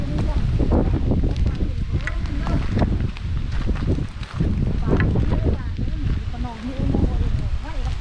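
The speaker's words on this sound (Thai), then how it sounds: "ลมมันพัดแห้ง ลมแห้งมาก" Strong, dry wind gusting across open country on the way to rice fields in Laos, a loud steady roar buffeting the microphone with rumbling bursts and a brief lull midway, while people talk throughout.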